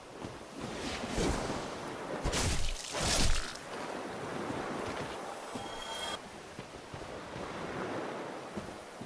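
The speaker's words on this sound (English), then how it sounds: "The way that water's moving around." Water churns and washes in Dark Souls, a broad continuous surf-like rush with surging swells, fairly faint and steady with no voices.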